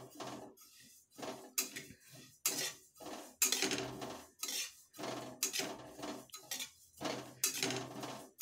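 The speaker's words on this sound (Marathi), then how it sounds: "तर इथं मी सतत हलवत आहे तीळ खाली लागू नये म्हणून" A spoon scrapes and clinks steadily in a metal pan as sesame seeds are stirred while dry-roasting for jaggery poli, repeated close metallic strokes in an uneven rhythm with no talk.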